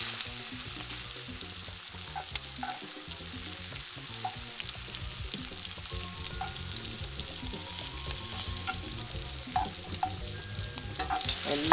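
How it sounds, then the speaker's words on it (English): Risotto is stirred in a pan with scallops nearby, a soft continuous sizzle under repeated scraping and clicking of a utensil against the pan, with no talk. "I want to give it a little bit more stir."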